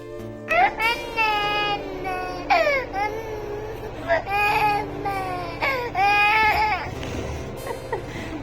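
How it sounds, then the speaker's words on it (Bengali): A baby cries in repeated wailing bursts with short breaths between, loud and close, rising and falling in pitch over steady low background hum. "এই জন্য যে কান্না শুরু হয়ে গেল।"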